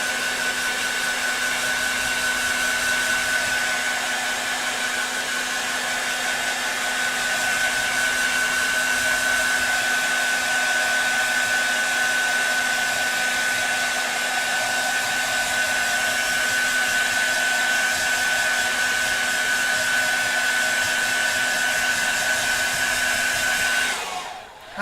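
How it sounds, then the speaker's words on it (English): Hair dryer blasting straight onto wet paint on a miniature Kroxigor figure, a loud, steady whooshing roar with a constant motor whine that runs unbroken for about 25 seconds before cutting off, with no talking. "I was literally blasting the hairdryer straight on it and it's not drying."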